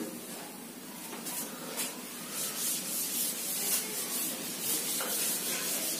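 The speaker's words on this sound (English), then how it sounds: "I will rub it." Someone rubs an object by hand, producing a soft, continuous scraping and rubbing hiss in repeated strokes, fairly quiet and close, with no talking.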